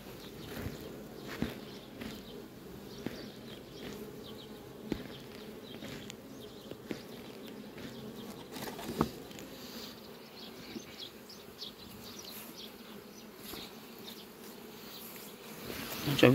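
Bees buzz in a dense, steady swarm around beehives fitted with pollen collectors, close and continuous with a few louder passes near the microphone, no talk.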